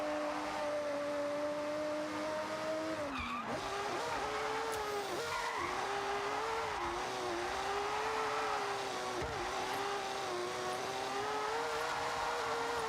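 A race car engine drones and shifts pitch through acceleration in the video game Forza Horizon 6, with brief tire squeals and skids mid-run, loud and continuous.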